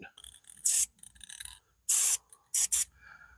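A Rust-Oleum high-output aerosol spray paint can hisses in several short, sharp bursts, each a second or less, separated by quiet handling noises, while painting a VW Beetle.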